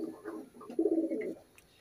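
A male Giribaz pigeon coos close by, a soft, low rolling coo rising after a brief soft call, lasting about a second, alone in a quiet room.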